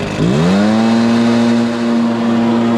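A Stihl BR430 backpack leaf blower engine is throttled up from idle to full throttle, its pitch rising quickly and then holding as a loud, steady, close-up drone for the rest of the clip.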